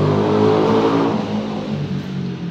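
A car or motorbike passes on the street outside a room, its engine swelling into a steady mid-pitched drone that fades toward the end, fairly loud, with no voices.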